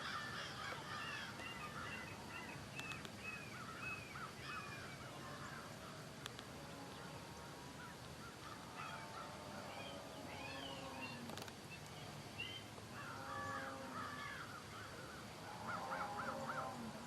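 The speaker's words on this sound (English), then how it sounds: "30 or 40 crows over there" Flock of thirty or forty crows cawing outdoors, overlapping harsh calls rising and falling continuously at moderate distance, with bursts of denser cawing throughout.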